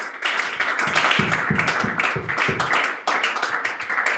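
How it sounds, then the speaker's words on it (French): A church congregation claps during a service, a close, fairly loud round of individual hand claps with some rhythmic, distinct strikes, briefly dropping out before resuming. "Applaudissez encore une fois le Seigneur de gloire."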